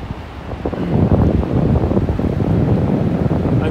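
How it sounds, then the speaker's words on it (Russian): Large waterfall beside a road in Quebec, a loud, steady roar of rushing water close by, with no voices. "Огромный, красивенный водопад,"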